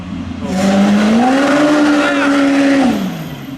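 A car drifting sideways in a four-wheel slide, with a long loud tire squeal and strained engine note rising and holding for about two seconds before fading, and a voice heard briefly.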